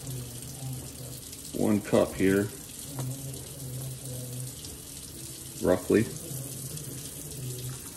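Warm water, heated on a stovetop to just short of boiling, pours steadily into a baking soda mixture for a homemade deer-hunting scent killer, with a voice speaking briefly over the soft running stream.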